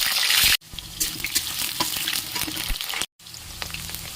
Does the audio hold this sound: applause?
no